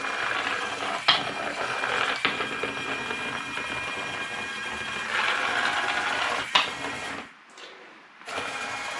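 Small 3D-printed Raspberry Pi tracked robot driving around, its motors and gears giving a continuous whirring, ratcheting hum with clicks and bumps, surging as it accelerates and briefly cutting out near the end.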